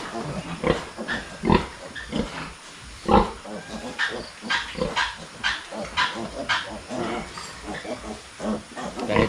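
Pigs and piglets on a farm squeal loudly and repeatedly in overlapping, shrill bursts with grunts between, close and busy throughout.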